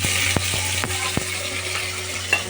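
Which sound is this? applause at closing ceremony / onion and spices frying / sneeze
onion and spices frying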